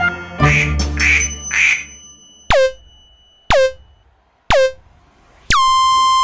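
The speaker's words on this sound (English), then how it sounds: "He waddles, flaps his wings, and says quack quack." A duck quacks three times in quick nasal bursts, followed by four sharp, separate honking toots with pauses between them. The sounds are close and clear with no talking.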